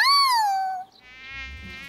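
A cartoon mosquito buzzes in a thin, high whine that swoops down in pitch, briefly drops out, then returns as a fainter buzz over a low rumble.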